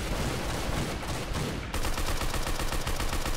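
Rapid gunfire from a shotgun in the video game Arsenal, with dense overlapping blasts filling the whole stretch at a constant loud level; no one speaks.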